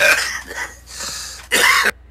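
A man with a cold and sore throat coughs and clears his throat a few times, with a loud, harsh burst near the end, close to the microphone and with no talk over it.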